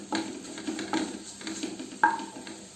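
Spices stirred and sautéed in a pan for a dry tuna fish roast, with faint sizzling and a few light, irregular clinks of a spoon against the pan.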